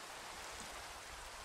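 Steady rain falls in Minecraft, a faint, even hiss of dense drops with no distinct splashes, continuous and distant.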